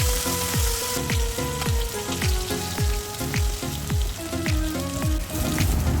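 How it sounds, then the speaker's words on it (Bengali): Bata fish frying in hot oil, a dense continuous sizzle with crackling spatter, joined by a steady series of loud low knocks with ringing tones, no talking. "এখন বাকি মাছগুলো ওভাবে ভেজে নেব।"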